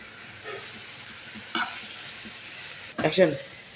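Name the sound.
stirring banana flower (mocha) mixture frying in a pan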